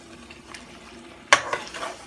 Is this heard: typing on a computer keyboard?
no